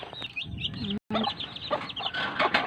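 Chickens cluck and chatter nearby in short, irregular bursts, with a brief moment of silence partway through.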